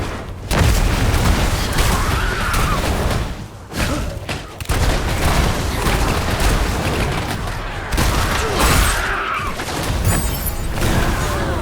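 Explosions and booming blasts sound in the action game Diablo Immortal. Loud, dense rumbling impacts continue almost without a break, with brief dips in between.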